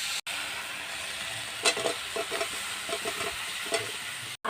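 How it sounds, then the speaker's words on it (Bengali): Water chestnuts go into a pan of fried spice mix for a korma, setting off a soft, steady sizzle. Scattered clinks and scrapes of stirring come through at close range, and the sound cuts out briefly at the start and end. "এবার আমি এই পানি ফলগুলো মশলার মধ্যে দিয়ে দেব।"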